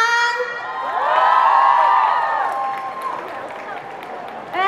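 A crowd of fans at a concert press conference for a singer cheers, whoops and shrieks with applause mixed in as he is welcomed, swelling loudly then easing off.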